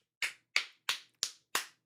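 Five sharp hand claps in a steady, evenly spaced rhythm, close and crisp, with nothing else around them.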